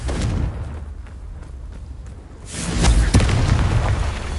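Confringo blasting curse exploding in Hogwarts Legacy, a heavy booming blast that swells into a sustained rumble after a quieter stretch of lighter impacts.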